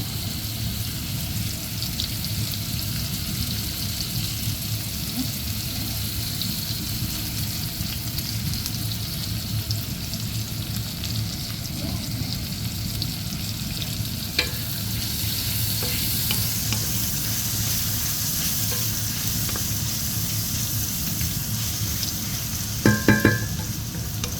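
Garlic stir-frying in a pan for stir-fried bean sprouts, a steady close sizzle with stirring and scraping through the whole stretch, with a few brief clinks near the end.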